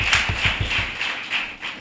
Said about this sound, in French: Applaudis pour le roi des rois.